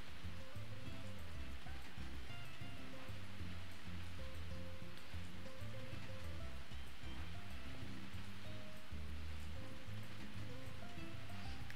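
Steady rain hisses through a rainy day in the farming game Story of Seasons: A Wonderful Life, running unbroken under a gentle looping melody of game music.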